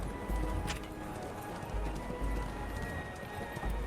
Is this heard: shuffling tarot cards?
no